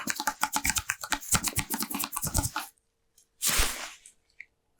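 Micellar water applied close up in an ASMR doctor roleplay, with dense wet squishy crackles for a few seconds, a pause, then a brief louder squirt or wipe.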